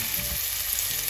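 Garlic and onion sizzle and fry steadily in a hot pan, a close, constant crackling hiss with no voices.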